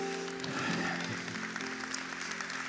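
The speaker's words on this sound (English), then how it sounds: "Thank you for the golf clap" A church congregation offers a light, polite smattering of claps, a soft steady patter heard at a moderate distance without any voices over it.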